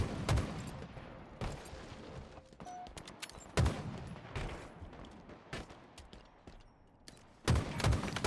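Bursts of rapid gunfire from the Halo Infinite video game come in several sharp volleys with quieter gaps of game noise between them.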